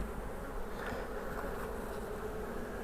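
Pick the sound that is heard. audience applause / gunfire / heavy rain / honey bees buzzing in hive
honey bees buzzing in hive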